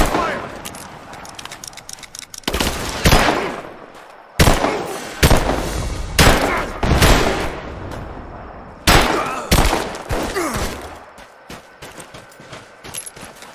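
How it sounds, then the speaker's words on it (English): Gunfire in Rise of the Tomb Raider, loud repeated bursts of shots and automatic fire in uneven clusters across the span, with game voices and movement between volleys. "I'm under fire!"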